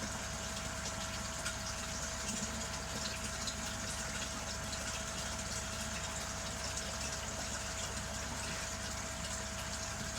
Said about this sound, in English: I have a live feed of water